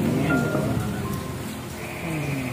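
Heavy rain pours steadily during an outdoor handover ceremony at Saung Kembangan, a dense continuous wash filling the background with faint tonal sounds drifting over it.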